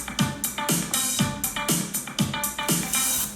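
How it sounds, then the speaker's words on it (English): A punchy electronic drum loop with a steady kick and snare pattern repeating rapidly, bright cymbal-like hits layered over it, and a sweep effect, no voices. "So I found a little sound, a drum loop,"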